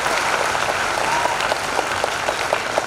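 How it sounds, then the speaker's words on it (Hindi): Audience applause at a Hindi poetry recital (kavi sammelan): a steady, dense burst of clapping from a large crowd, fairly loud and sustained throughout, with no talk over it. "मेरी बात पर आपकी तालियों की मोहर लगे।"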